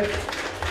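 Crowd applause at an MMA weigh-in event, a brief burst of clapping mixed with a voice on the PA.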